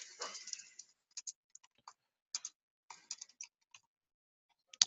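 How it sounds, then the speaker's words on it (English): Someone types on a computer keyboard in short, quiet clusters of key taps with pauses between them, close and alone. "we can just type in our own name here."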